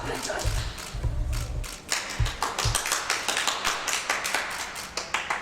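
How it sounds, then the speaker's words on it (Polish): An audience claps for a street musician, a fairly close round of quick, uneven hand claps and taps that keeps going with a few heavier thuds at the start. "Prosimy o brawa!"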